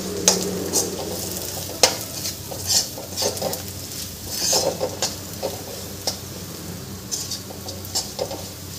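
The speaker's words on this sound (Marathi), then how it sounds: "आणि मिक्स करून घ्यायचं आहे छान।" Sabudana khichdi being stirred in a frying pan, a steady soft sizzle broken by repeated scraping and clinking strokes of a spoon against the pan, close and moderately loud with no talking.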